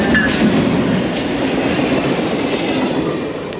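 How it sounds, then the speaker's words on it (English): A train rumbles past close by, loud and steady wheel noise on the rails with a faint squeal, fading slightly toward the end. "Okay, the train's coming up here"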